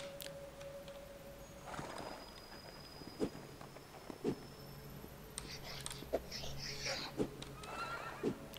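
Horses in a video game let out a few whinnies and neighs over a faint, steady game background, with scattered thuds and some soft voices in the mix.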